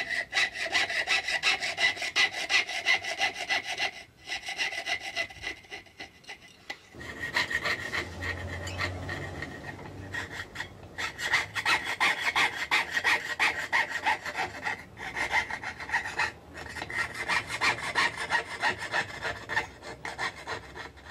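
Hand saw cutting through silver held against a wooden bench pin, a steady rasping back-and-forth stroke heard close, with a short pause partway through before the sawing resumes.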